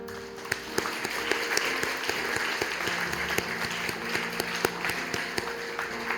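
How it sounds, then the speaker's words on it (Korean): A room full of people at a church graduation ceremony applauds, steady clapping continuing throughout with a few sharper, louder claps standing out. "많은 박수와 격려로 축하해 주시기 바랍니다"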